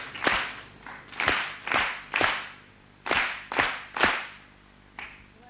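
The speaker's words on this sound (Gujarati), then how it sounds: "અને આપણી પ્રણાલિકા પ્રમાણે 3 તાળીઓથી આપણે તેમનું અભિવાદન કરીશું" An audience at a devotional gathering claps in unison, giving sharp, synchronized claps in short rhythmic groups with brief pauses between them, loud and without talk.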